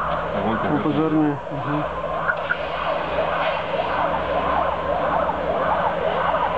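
A fire engine siren wails in a repeating rising-and-falling pattern at moderate distance, over a low engine drone, with voices talking near the start, near an open fire where a carburettor has exploded.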